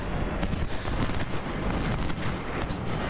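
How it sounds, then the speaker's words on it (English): Artillery fire rumbles through a Civil War battle at Stones River in the strategy game Ultimate General, a dense, continuous roll of booming cannon blasts overlapping one another at steady loudness with no gaps. "There's been a bit of an artillery duel, it looks like, out there."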